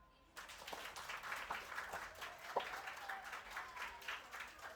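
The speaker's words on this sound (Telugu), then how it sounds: "క్లాప్స్." A small group claps in a classroom at the launch of a digital board, steady applause starting abruptly after a brief quiet moment and continuing with scattered sharp claps, fairly close and moderately loud.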